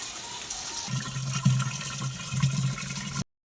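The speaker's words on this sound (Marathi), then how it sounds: "पाणी घेतलं आता भरायला." Water gushes steadily into a container, a low hollow filling tone rising over a few seconds before stopping abruptly.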